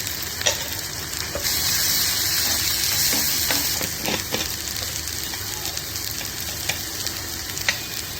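Turmeric and chili spice powders fry in hot oil for a Konkani capsicum bhaji, giving a continuous close, loud sizzle with scattered light stirring ticks and scrapes throughout.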